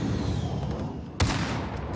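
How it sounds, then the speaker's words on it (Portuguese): Gunfire in the Call of Duty Warzone Zombie Royale video game: a low rumbling backdrop broken by one sharp, loud shot near the middle, with no talk. "eu ouvi tiro"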